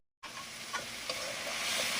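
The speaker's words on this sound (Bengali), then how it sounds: "এবার মশলাটা ভালো করে ভেজে নেব" Ground spices (salt, cumin, turmeric, coriander and chili powder) fry in a pan for a fish and tomato curry, giving a steady soft sizzling hiss with a few faint crackles and stirring scrapes, no voices.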